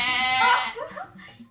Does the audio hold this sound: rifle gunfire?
no